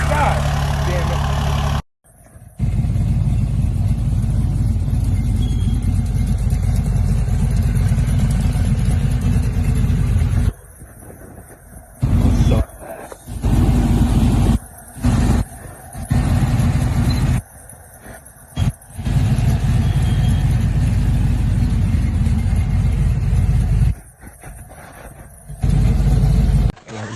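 A lifted truck's engine fitted with a new 12-inch exhaust tip rumbles with a heavy, deep idle close by, broken by brief cutouts and sharp bursts, loud and continuous across the stretch.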